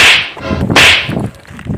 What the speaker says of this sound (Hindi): तू हमको थप्पड़ क्यों मारा?